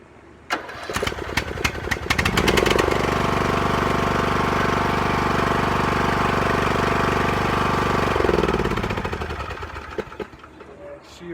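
A tractor engine, newly running after a carburetor repair, cranks and catches, then settles into a loud, steady running drone for several seconds before the revs tail off, with clicks and knocks around it.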